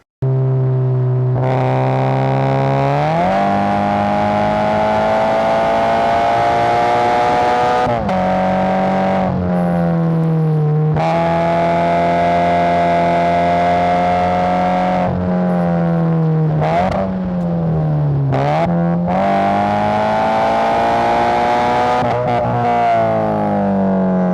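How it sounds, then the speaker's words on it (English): A Toyota 86 fitted with a Comp RS exhaust revs repeatedly, loud and close, its note climbing and dropping through several long pulls with short breaks between, heard alone without talk. "let's go ahead and throw an exhaust clip into the video right now"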